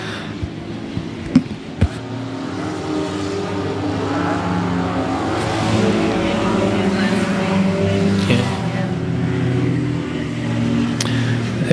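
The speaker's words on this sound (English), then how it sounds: "The old Pontiac Grand Prix trying to tackle the quarter-mile high bank here at 105 Motor Speedway." An old Pontiac Grand Prix race car runs laps on a quarter-mile high-banked oval at 105 Motor Speedway, a continuous roaring engine drone at a distance, steady and loud throughout, with a commentator talking over it.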